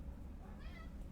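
A pet cat named Kitty lets out a single short meow indoors, close and moderately loud over a low background rumble.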